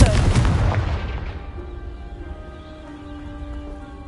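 A Confringo blasting spell detonates in a video game. One loud, close boom opens the clip, then a rumbling tail fades over several seconds while a low sustained tone lingers underneath.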